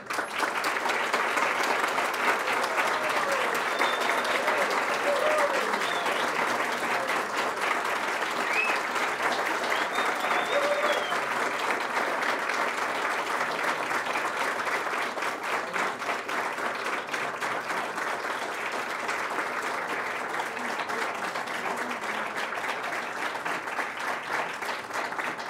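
Sustained, steady applause from a standing audience honoring a professor emeritus at a university title ceremony, loud and even with no letup for the whole stretch.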